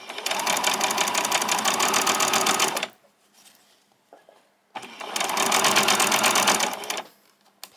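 A sewing machine stitches fabric for a pair of summer shorts, running in two long, steady loud bursts with a quiet pause between them.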